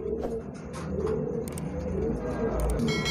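Rampuri or Teddy breed pigeons coo in a steady, close series of low, throaty calls, with faint background noise and no talking.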